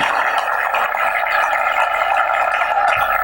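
Worshippers in a church keep up continuous clapping, a thick, even roar of many hands at high level, close and unbroken, with no voices standing out.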